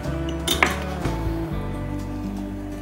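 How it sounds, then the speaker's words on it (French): Knife on a board halving scallops, with a few distinct knocks and clinks against a steady kitchen hum, close and fairly loud. "je coupe les Saint-Jacques en deux"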